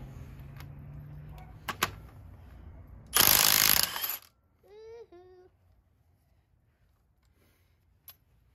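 A socket wrench works loose a bolt on a Detroit Diesel 60 series engine, with a few ratcheting clicks and metallic clanks, a loud burst of mechanical noise in the middle, then sparse faint knocks in a quiet shop.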